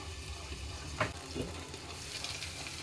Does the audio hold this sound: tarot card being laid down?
no